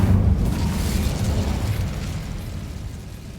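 An Incendio fire spell in the Hogwarts Legacy video game erupts as a loud, rumbling fiery blast that roars at first and then slowly fades.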